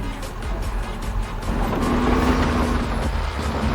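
A heavy 50-ton Volvo excavator engine in Farming Simulator 22 rumbles steadily with a low, coarse drone that swells slightly, close and continuous with no talking.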